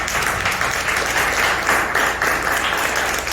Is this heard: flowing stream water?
no